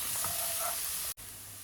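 Steady, fairly faint sizzling of onions frying in a pan, broken by a brief moment of near-silence before the sizzle resumes.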